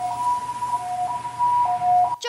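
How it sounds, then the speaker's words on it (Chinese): An ambulance siren wails as the vehicle rushes an injured man to hospital after a firecracker blast in Beinan, Taitung, a loud, steady two-tone cry that ends abruptly with a short burst of another sound. "救护车驶往火急，将伤患载到医院。"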